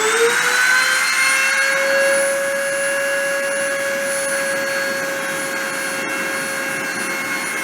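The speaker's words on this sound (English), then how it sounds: "I'm going to start the spindle and start the deposition" A friction deposition machine's spindle spins up, its whine climbing in pitch over the first second and then holding a steady, loud, tonal hum with a faint mechanical hiss and no voices.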